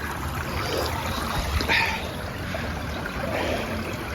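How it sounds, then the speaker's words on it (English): Water carrying gravel through a blue sluice box at a gold-prospecting creek, a continuous trickling rush with a brief splashy surge midway, close by and without voices. "just ran probably half a bucket out of that hole there through the sluice"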